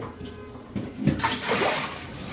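Water splashes and runs while fish is being cleaned, uneven gushing and sloshing bursts close by.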